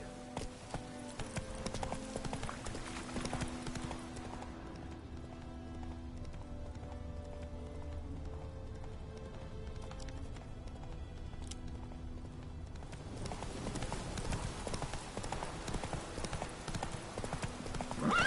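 Horse galloping in the video game The Witcher 3, steady rhythmic hoofbeats close by throughout, with a brief whinny and the pace easing and picking up again over background game music.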